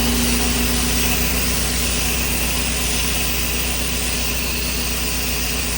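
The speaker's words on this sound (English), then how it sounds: "So you can hear the injector pulling." A Super Sud Sucker chemical injector machine runs and pulls chemical, giving off a constant loud motor drone with a steady low hum and a faint tonal whine, unbroken and close, with no talking.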